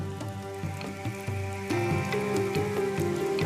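Heavy rain falls at misty Thornton Peak in Australia, a dense steady patter of drops on surfaces with scattered louder splashes, growing slightly heavier partway through, with no talking.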